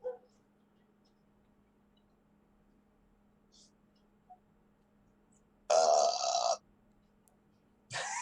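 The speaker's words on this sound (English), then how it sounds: "You all hear Lindy wake up with a burp." A burp heard during a tabletop role-playing session, a sudden loud, broad-toned belch lasting under a second against near silence, followed by another short burst at the very end.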